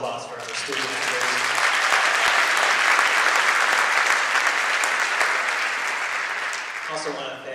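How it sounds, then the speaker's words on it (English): Loud, sustained applause from a school audience at Barrington High School, clapping for student members, filling the room evenly for several seconds before tapering off at the end. "how about one more round of applause for our student members?"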